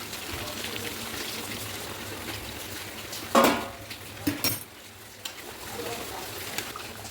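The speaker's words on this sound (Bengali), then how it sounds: "এবার আমি এর মধ্যে গরম জলটা দিয়ে ঝোল করে নেব" Hot water is poured into a pan of mutton and potato curry, a steady hissing bubbling bed with a sudden loud splash and sizzle partway through, then a few smaller spatters and clinks of the pot.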